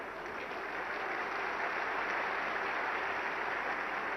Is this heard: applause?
yes